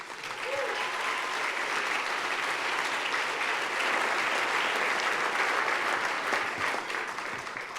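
Sustained audience applause for assistant coaches at a Pro Football Hall of Fame awards show, a dense, even wash of clapping from a large crowd lasting several seconds.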